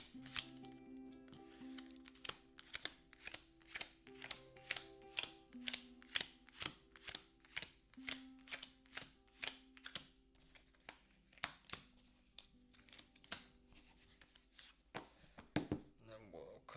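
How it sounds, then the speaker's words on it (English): Bonus cards from the Wingspan board game are drop-shuffled by hand, a steady run of quick, crisp card slaps and riffles repeating roughly every second, close and moderately quiet, with soft voice murmurs underneath. "Just do a quick drop shuffle on these bonus cards."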